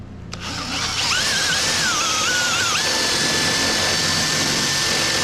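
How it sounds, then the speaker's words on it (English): A power drill with a dulling bit whines steadily as it bores through rusty metal at a truck cab corner, the motor pitch wavering and dipping under load before settling into a sustained high drone. "Almost feels like this drill is getting dull."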